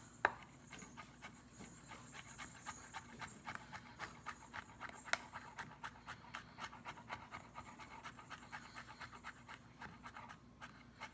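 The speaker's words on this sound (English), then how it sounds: "I am using this big Asian knife, because it's a lot easier to cut and chop" Clams are chopped with a big Asian knife on a board in a steady series of quiet, sharp knocks, with a few louder strikes, close and faint with no speech.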